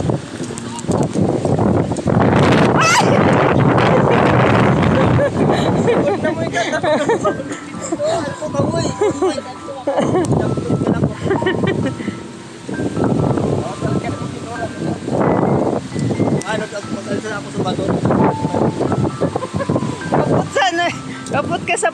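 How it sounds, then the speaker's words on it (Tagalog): Strong wind buffets the microphone on Tinawagan Hills in Antipolo, roaring in loud gusts while people talk and laugh nearby. "Lakas ng hangin."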